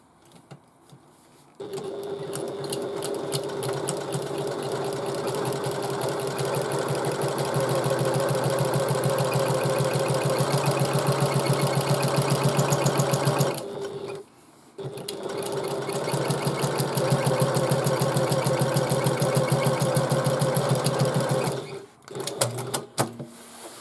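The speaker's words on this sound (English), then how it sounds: "I'm using a walking foot because I'm stitching vinyl" Sewing machine fitted with a walking foot stitching vinyl for a bag, running in long steady bursts of rapid stitching with a short pause midway and a brief final run, close and alone.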